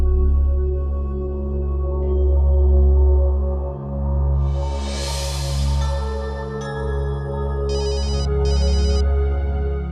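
Mobile phone ringing out while calling someone in a village drama scene, with a steady ringback and electronic chirping tones over a loud background music bed and no talk.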